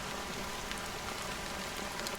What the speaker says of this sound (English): how long has this rain been going on for?